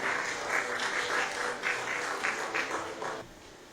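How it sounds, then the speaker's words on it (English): Conference audience applauds panelists at a panel session, a steady wash of many hands clapping at moderate distance that fades out near the end. "Please give them a round of applause."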